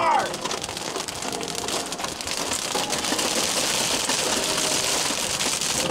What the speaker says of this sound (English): Getting completely annihilated by hail right now.